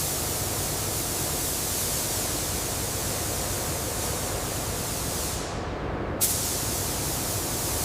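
A steady, loud hiss of spray equipment coating a helicopter in military green paint, continuous and close, briefly cutting off near the end before resuming.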